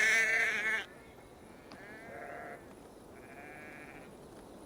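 Sheep in Assassin's Creed Valhalla give a few short, wavering bleats after a loud opening burst, the calls fairly faint and spaced apart over a quiet background.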